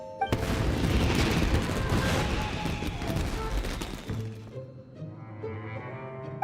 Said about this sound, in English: this is turning into a bit of a fireworks display